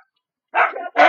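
A dog gives two sharp, close barks in quick succession after a brief silence, loud and clear with nothing else around them.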